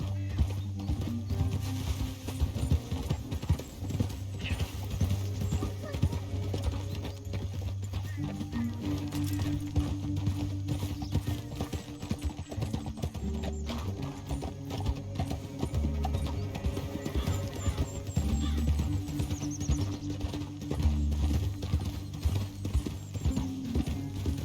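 Horse hooves clip-clop steadily through Red Dead Redemption 2 as a rider travels a canyon trail, the rhythmic clopping running the whole time beneath a music bed, with occasional whinnies and characters talking over it.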